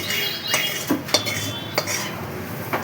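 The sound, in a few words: rice being put down into a bowl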